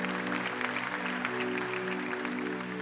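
Steady applause from a church congregation during an evening worship service, moderately loud and continuous, with a faint tonal hum underneath.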